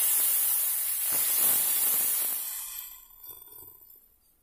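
Adai batter poured onto a hot pan breaks into a loud hissing sizzle at first, then it gradually softens and fades over a few seconds.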